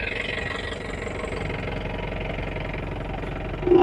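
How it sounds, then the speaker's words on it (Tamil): A Mahindra Bolero turbo diesel engine idles steadily at close range, a continuous low rumble with even pulsing and a slight rise in level right at the end. "ஸோ வண்டி இப்போது ஸ்டார்ட் பண்ணி பார்க்கலாம்."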